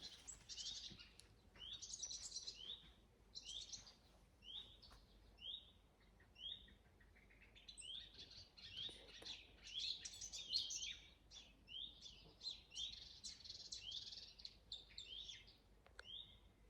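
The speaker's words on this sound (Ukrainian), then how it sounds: "а пташки так співають" Several birds sing and chirp in bright, repeated phrases, overlapping continuously at moderate distance with no voices.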